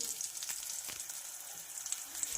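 Garlic and peanuts fry in a pan for chivda, giving a soft, even sizzle with faint crackles, close by and fairly quiet throughout.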